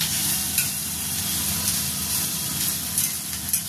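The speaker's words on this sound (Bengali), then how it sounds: "একটু হালকা ফ্রাই হয়ে যাচ্ছে, দেখতে পাচ্ছেন।" Capsicum with ginger paste frying lightly in a pan gives a steady, close sizzle with a broad hiss throughout and a few small crackles.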